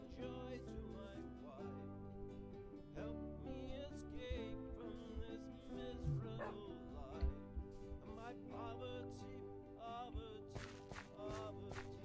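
A pet wolf in the video game Minecraft barks and yips repeatedly over a stretch of game sounds, the short barks scattered irregularly and moderately faint.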